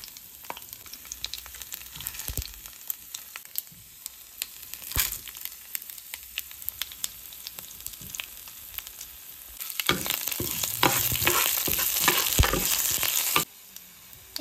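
Seeds sizzling and popping in hot oil for a Kadapa-style mango chutney, with garlic already in the pan; steady crackle with stirring clatter, growing louder and denser toward the end, no talking.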